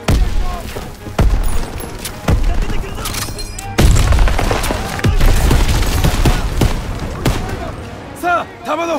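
Grenade explosions and gunfire in the World War II shooter Call of Duty: WWII, with dense, loud bursts of rifle and machine-gun fire and heavy booms, while voices come and go beneath the combat.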